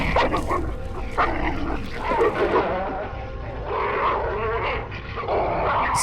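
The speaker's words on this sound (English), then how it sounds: "the dogs that he sees fighting" Dogs fight in a film scene from The Exorcist, with loud snarls, yips, whimpers and barks in rapid bursts over a dramatic soundtrack.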